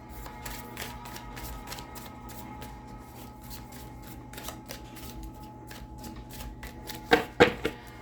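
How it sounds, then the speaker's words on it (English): Tarot cards being shuffled repeatedly in a steady riffling rhythm, close up, ending with a few sharper snaps and taps. "Get some good shuffles in here"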